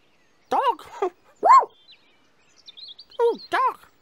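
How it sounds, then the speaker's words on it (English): A cartoon dog in a children's animal-themed show gives several short barks and yips, close and fairly loud, separated by brief pauses, with faint chirping bird calls in the background. "Oh, dog."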